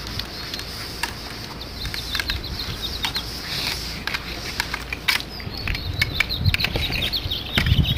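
A scrubber works back and forth over a solar panel to loosen stuck dirt and insect droppings, making a continuous close, rough brushing and rubbing with scattered sharper scrapes and no talk.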